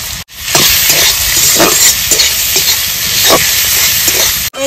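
Chopped onions frying in katla fish oil with turmeric and salt, sizzling loudly and steadily while a utensil stirs through them in repeated scrapes, close by with no talk.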